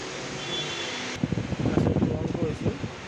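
A Samsung 1.5 ton window air conditioner with a no-cooling, high-current compressor fault runs its fan motor as a steady whooshing hum, soon joined by someone speaking close by over the drone.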